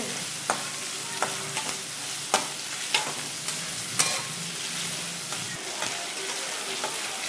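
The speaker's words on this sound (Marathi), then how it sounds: "आता चांगला हलवून घेते कांदा आणि चांगला परतून घेते." Chopped onion fries in a pan with a steady crackling sizzle, punctuated every second or so by sharp scraping and tapping strokes of a spoon stirring the pan, close and clear, with no talking.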